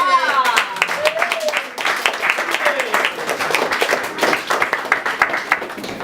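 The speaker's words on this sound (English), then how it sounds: "Everybody, let's have a round of applause for Katie." Scattered clapping and cheering from an audience at a poetry reading, a few voices whooping over the applause, which dips briefly then rises again in a lively, uneven burst.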